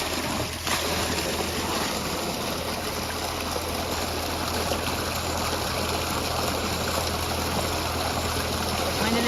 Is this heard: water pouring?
yes